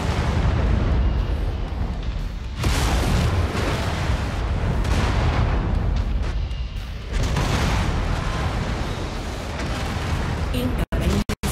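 Incoming missiles in MechWarrior 5 detonating in heavy, booming explosions that roll on for several seconds each, with rumbling mech combat between blasts and a few sharp clicks at the end, with no talking.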